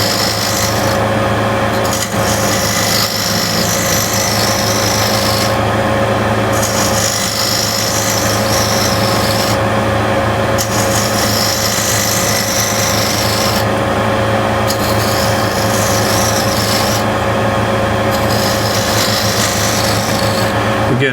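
A hand scraper shear-scraping the end grain of a wood workpiece with a light touch, giving a steady, continuous close rasping that runs without pause and without talk.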